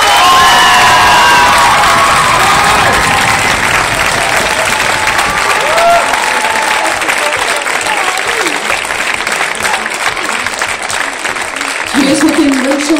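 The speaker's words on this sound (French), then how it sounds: "Applaudissez très fortement les lauréats." A crowd at a dance competition awards ceremony applauds and cheers the winners, with steady, dense clapping lasting the whole stretch, scattered shouts, and a brief voice rising near the end.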